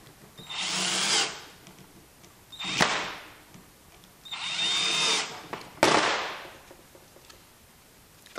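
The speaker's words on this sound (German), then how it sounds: "Dazu muss ich den Bohrkopf wechseln." Power drill driven in bursts while a DIY camera crane is built: four loud whirring runs of one to two seconds each, up close, with short pauses and a clunk between them.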